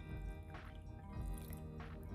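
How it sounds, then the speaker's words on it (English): Warm water pouring onto Greek-style yogurt and flour in a mixing bowl while making bazlama dough, giving soft wet splashing and dripping in two short bursts, close and fairly quiet. "we're going to add 160 grams of Greek-style yogurt and 170 ml of warm water"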